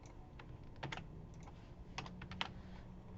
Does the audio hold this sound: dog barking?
no